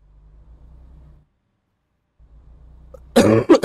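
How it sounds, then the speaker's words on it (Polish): Several harsh, loud coughs burst out near the end, close and abrupt, after a low idling engine rumble with a brief silent gap. "Przepraszam was, ale mam kaszel."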